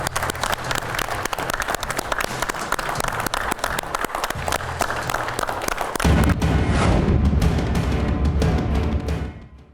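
Loud, dense applause from a large crowd, steady throughout and swelling into an even fuller roar of clapping toward the end before cutting off.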